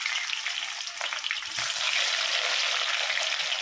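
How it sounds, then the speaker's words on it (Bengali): Chopped onion hitting hot oil already tempered with dried chillies, bay leaf and cumin, a steady loud sizzle that swells as the onion goes in, with light stirring, no voices. "তেলটা গরম হয়ে গেছে, এখন এতে পেঁয়াজ কুচি দিয়ে দেবো।"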